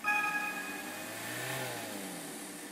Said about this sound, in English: Okay, it's a car race.